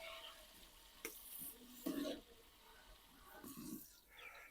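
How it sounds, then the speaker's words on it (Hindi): Finely chopped onions fry in hot ghee for a village-style vegetable pulao, a soft, steady sizzle broken by a few louder stirring scrapes and clatters. "प्याज को गोल्डन ब्राउन होने तक फ्राई कर लेंगे।"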